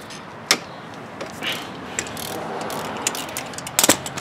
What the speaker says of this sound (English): We'll stick our wrench on here.